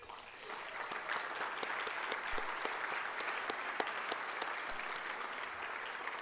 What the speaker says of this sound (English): please, for a round of applause.